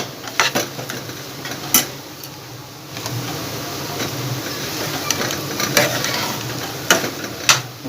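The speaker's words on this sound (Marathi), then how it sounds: "मस्त ते मसाला टाकलं त्याच्यामध्ये मस्त परतून घ्यायचं" A spatula scrapes and clatters in a pan as samosa masala is sautéed in oil, with irregular sharp knocks over a continuous hiss.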